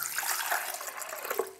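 Water pours into a vegan lubricator mixture, a brief, steady splashing stream running close and alone for a second or two.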